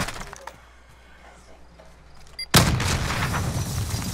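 Gunfire in the Call of Duty: Modern Warfare video game: a single sharp, loud crack breaks a quiet stretch halfway through and is followed by sustained, rumbling noise.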